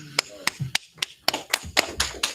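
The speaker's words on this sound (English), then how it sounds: "All right, clap it up." An audience claps in scattered bursts, around ten sharp separate claps rather than continuous applause, close and fairly loud with a voice heard briefly among them.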